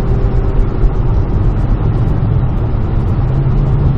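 A 1995 Ford E-150 van with a new exhaust pulls steadily uphill under acceleration, its engine a loud, continuous low drone and whir heard from inside the cabin, with no talking.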